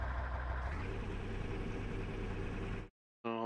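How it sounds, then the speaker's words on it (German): A simulated L60 truck with a fertilizer spreader body and W50 engine sound in Landwirtschafts-Simulator 19 runs at a steady, rough mid-level drone, then cuts to brief silence before a short tonal burst. "jetzt haben wir hier einen Düngerstreueraufbau auf einem L60. Mit dem Sound vom W50."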